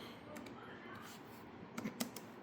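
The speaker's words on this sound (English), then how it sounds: "I forgot I had this damn Bluetooth keyboard, but you just type in" Typing on a Bluetooth computer keyboard, a few soft scattered keystrokes with sharper clicks near the end, heard close up beneath a continuous background hum.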